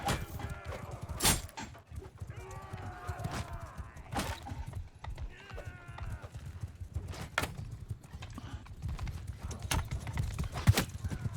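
Horse hooves clip-clop in rapid rhythm as a rider climbs a hill in the video game Mount & Blade II: Bannerlord, with occasional whinnies and battle noise around them and no speech.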